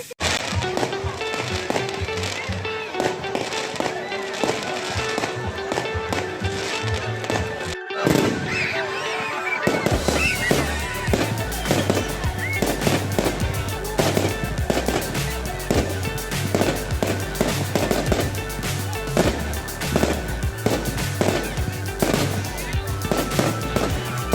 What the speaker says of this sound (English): the next thing you'll see is some beautiful fireworks